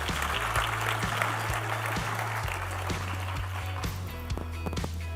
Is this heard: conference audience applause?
yes